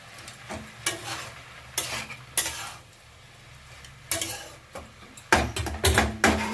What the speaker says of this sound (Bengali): মশলাটা দিয়ে একটু নেড়ে নিই।